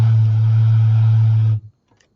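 Steady white noise resonating inside a larger container, a loud sustained hiss with a strong low hum that cuts off abruptly near the end, leaving silence.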